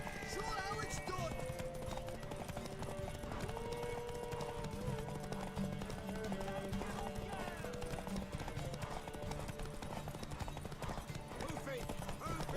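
Horse hooves clip-clop steadily in the Witcher 3 video game, a continuous close trot running under game music and spoken dialogue throughout.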